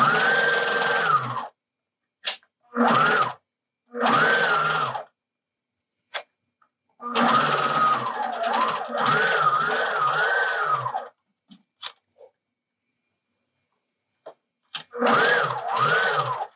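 A sewing machine stitches all the way around a fabric face mask in several runs of steady whirring separated by pauses and small clicks, close and clear with no voices.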